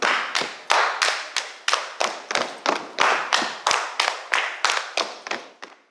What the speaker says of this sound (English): They clap their hands in the air, jump a little, causing their feet to stamp lightly on the floor